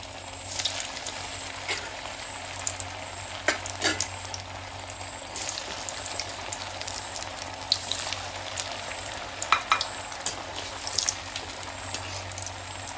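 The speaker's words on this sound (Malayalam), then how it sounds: "ഇനി നമുക്കിത് ഫ്രൈ ചെയ്യാം എണ്ണ ചൂടായിണ്ട് നമുക്കിത് ഓരോന്നിട്ടിട്ട് ഫ്രൈ ആയിട്ട് എടുക്കാം" Soya bean cutlets sizzle and fry in hot oil, a steady close crackle running throughout with scattered small pops and bursts, no talking.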